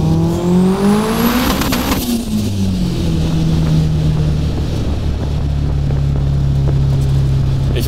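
A 700 hp front-wheel-drive VW Polo sleeper revs hard, its engine pitch climbing sharply then dropping and holding a loud, droning tone, heard close with heavy wind buffeting.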